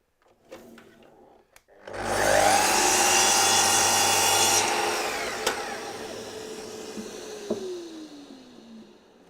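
A power tool trims the edge of a timber lid for a finger-jointed box, running at a loud, high whine for a few seconds before spinning down with a falling tone.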